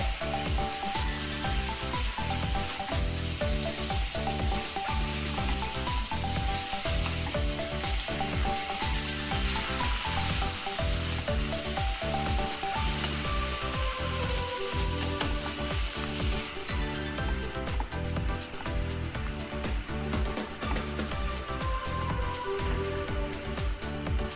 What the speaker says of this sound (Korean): 굽듯이 익혀주시면 됩니다.